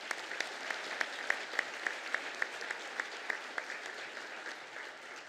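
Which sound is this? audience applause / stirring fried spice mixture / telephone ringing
audience applause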